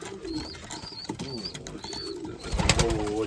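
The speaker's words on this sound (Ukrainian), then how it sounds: "Ось такі от голуби." Crested flying pigeons coo repeatedly at close range, overlapping soft throaty calls with thin higher chirps, ending in a louder bubbling coo over outdoor background noise.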